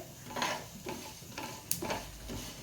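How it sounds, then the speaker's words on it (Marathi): Kashmiri red chillies and sesame seeds roast in a pan over medium heat, making a quiet, rhythmic scraping and rustling as they are stirred, with a light sizzle and an occasional faint tick. "मीडियम गॅसवरती आपल्याला ही सगळी जिन्नस परतवून घ्यायची"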